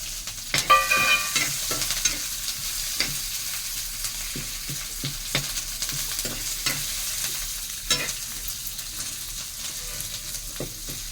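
A spoon scrapes and taps in a pan in a steady, uneven rhythm over a soft sizzle of vermicelli upma frying, close and with no talking.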